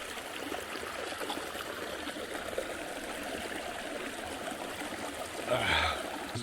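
Water flows steadily in a forest stream in Longmore Forest, a soft continuous trickling wash, with a brief voice-like sound near the end.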